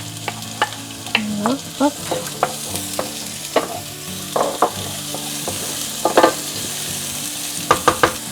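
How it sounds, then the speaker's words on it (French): Onions frying and sizzling in oil in a sauté pan, with a utensil stirring them in repeated scrapes and clatters close by; a brief spoken interjection breaks in partway through. "je vais rajouter un petit peu d'huile, faire revenir les oignons"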